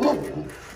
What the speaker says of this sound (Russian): У нас тут и собаки.